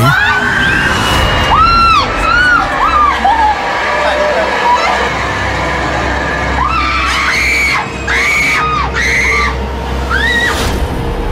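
Shrill screams ring out repeatedly inside a haunted house attraction, rising in sharp bursts over loud, crowded background noise and chatter, with several overlapping voices shrieking close by.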